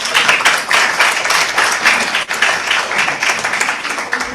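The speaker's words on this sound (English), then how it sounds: "Let us give him a round of applause." Loud, sustained audience applause welcoming a speaker at a policy conference on ASEAN and APEC priorities, thick continuous clapping from a large hall with no talk over it.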